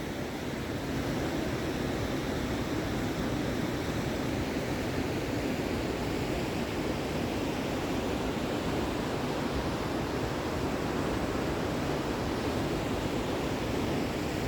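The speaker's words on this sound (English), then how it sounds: "Check out the rapids up here." Rapids at Kildoo Falls in McConnells Mills State Park, Pennsylvania, give a steady, loud broadband rush of churning water that holds constant for the whole stretch, with no voices.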